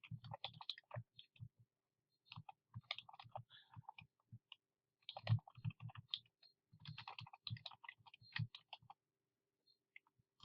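Fast, uneven key clicks on a computer keyboard come in short bursts with brief pauses between them, fairly quiet and close, with no one speaking.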